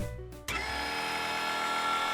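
Drill-powered boat propeller system spinning up, a steady high-pitched motor whine that starts abruptly after a brief lower hum and holds continuously, close and fairly loud.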